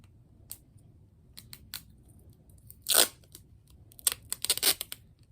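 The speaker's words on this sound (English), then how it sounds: "I'm gonna try and get it undone because this tape is impossible." Stubborn tape is picked at and peeled off its roll while making DIY fidgets, sharp scratchy crackles and short tearing rips, one louder strip-pulling rip in the middle and a quick flurry near the end, close with quiet gaps.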